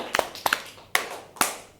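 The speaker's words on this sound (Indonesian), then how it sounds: "Tepuk tangan dong." A class in a school lesson clapping hands: four sharp, separate claps spaced roughly half a second apart, close and distinct, with no talking over them.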